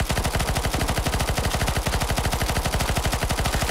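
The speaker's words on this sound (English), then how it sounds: "You can shoot now." Rapid automatic gunfire rattles continuously in the video game CS:GO Zombie Escape, a dense, loud, evenly spaced stream of shots with no pause.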